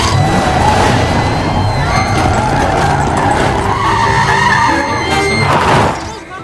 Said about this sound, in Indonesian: Mereka mengambil motor dan mobil parade untuk mengejar Jones.